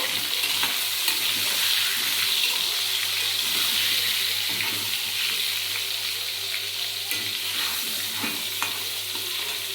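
A continuous crackling sizzle of potatoes with turmeric frying in hot oil runs throughout, with occasional stirring clinks and a low steady hum beneath.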